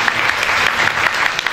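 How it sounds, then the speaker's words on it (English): An audience at a school event on innovative classrooms claps for distinguished guests. The applause is steady and fairly loud throughout, with dense overlapping claps and no voices on top. "Can we have a rapturous applause for our distinguished guests?"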